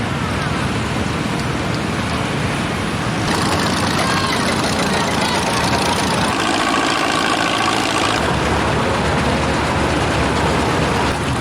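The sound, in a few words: big tractor engine running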